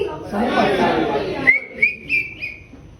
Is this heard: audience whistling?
yes